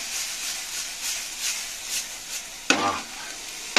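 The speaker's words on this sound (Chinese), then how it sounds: "咁而家呢个好啲啊，嗱，煎一煎佢先啦，好正。" Cauliflower rice with red and green peppers sizzles softly and steadily in a frying pan, with a brief scrape of stirring near the end and no voices.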